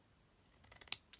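Scissors cutting paper for a decorated Christmas folder: a short run of crisp snips building to one sharp cut, then a last small snip, close and fairly quiet.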